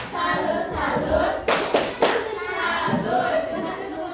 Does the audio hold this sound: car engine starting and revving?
no